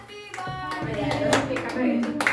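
Hands clap a few times during a birthday celebration in a restaurant, the claps brief and close, overlapping with people talking.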